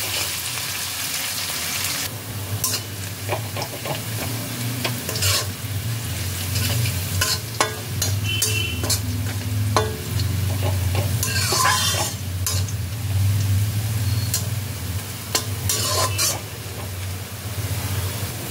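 Onions stirred and fried in a pan with a little salt, a continuous close sizzle broken by repeated scraping strokes of the spatula over about eighteen seconds.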